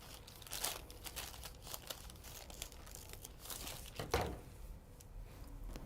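Paper crinkling and crunching as a dress pattern is trimmed by hand with scissors, soft and close, with a sharper crackle near the end and no talking.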